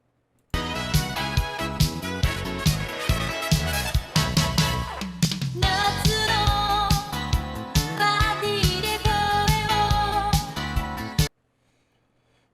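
A sampled music loop built for a beat, running the intro into the first verse with no effects applied; dense, steady and continuous at even loudness, then cutting off abruptly near the end.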